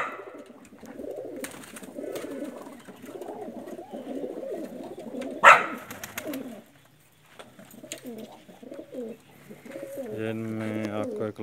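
Pigeons, a loft of Pakistani teddy breed birds, coo in low, rolling bursts at close range, mixed with a sharp flutter or clatter midway and some talking throughout.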